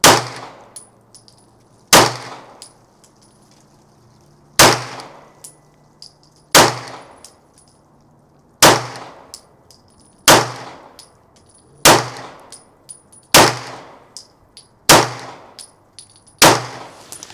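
A Daniel Defense H9 pistol fires self-defense ammunition at a range, ten sharp, loud shots spaced a couple of seconds apart, each followed by a short ringing decay, with no talking.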